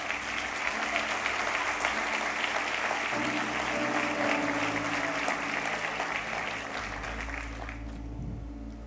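An audience applauds at a church sermon, a dense, steady wash of clapping that carries on for several seconds before tapering off near the end.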